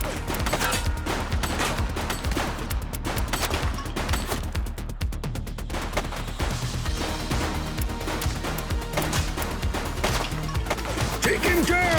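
Loud, dense gunfire from the video game The Precinct, with rapid bursts and volleys of shots packed closely together and continuing almost without pause.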